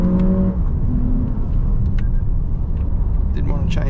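A 2024 Lexus RX 500h F Sport hybrid pulls hard at full throttle, its engine drone rising steadily and loudly inside the cabin alongside road and tyre noise for several seconds.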